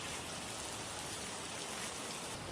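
Heavy rain from a typhoon's outer circulation pours down steadily, a dense, even hiss of water with no pauses and no voices.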